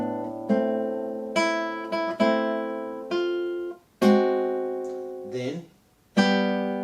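Nylon-string classical guitar playing two bars of Fernando Sor's Etude No. 3, Op. 35: slow, separate plucked chords that ring and decay between strokes, close, quiet and alone.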